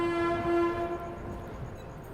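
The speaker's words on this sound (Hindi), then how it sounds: "जैसे ही ट्रेन निकली, देखो तुरंत अचानक से शांति आ गई।" A passenger train leaves a branch line station at Farrukhabad in India. A loud horn sounds for about a second over low rumbling, then steady rolling noise carries on with no voices.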